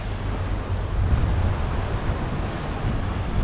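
Strong wind and high waves crash on the rocky coast of Ap Lei Chau, Hong Kong, in a steady, loud roar, with gusts buffeting the microphone throughout.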